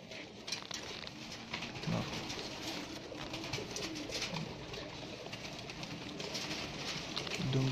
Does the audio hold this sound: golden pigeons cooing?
yes